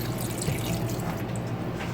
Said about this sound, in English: So I'll just pour it in the bottom of my pan.